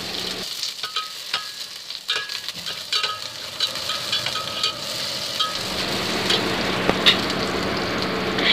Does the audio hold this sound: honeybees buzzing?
no